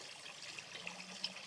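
Pumps keep water flowing and trickling in an outdoor fish pond in early spring, a faint continuous burble with tiny drips popping through, heard alone.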